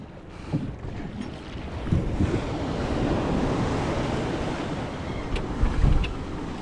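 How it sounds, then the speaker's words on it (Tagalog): Broad rushing water and wind noise, like waves breaking against a moving boat, steady throughout with a few louder splashes and no talking. "Alon."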